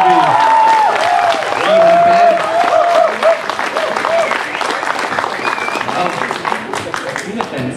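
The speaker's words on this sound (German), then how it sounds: "ein Applaus für unseren kleinen Joby" A crowd applauds a 12-year-old singer at a singing contest, steady loud clapping running throughout, with a voice calling out over it near the start.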